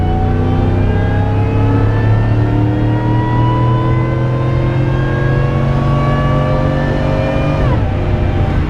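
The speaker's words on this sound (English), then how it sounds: "Upshift time." A 2005 Chevy Tahoe Joe Gibbs Special Edition engine revs loud and close, pitch climbing steadily for about eight seconds before dropping sharply on the upshift, then pulling again.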